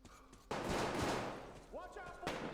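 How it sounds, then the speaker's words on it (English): Loud burst of gunfire in the video game Metro Exodus: a sharp onset followed by a sustained, dense rattle of shots lasting about two seconds, with a second bang near the end and faint voices in the background. "No, that had to have been gunshots."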